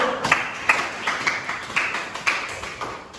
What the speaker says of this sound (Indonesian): aplaus lagi untuk kelompok 1